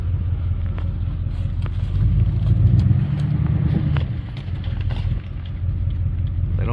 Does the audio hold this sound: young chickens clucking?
no